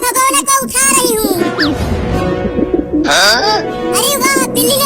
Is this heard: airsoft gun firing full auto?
no